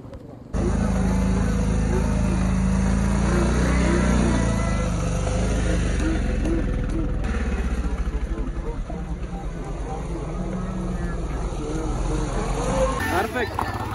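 Motorcycles ridden by a group of riders on the way to Pangong Lake in Ladakh, engines droning steadily with occasional revving, under nearly continuous talk.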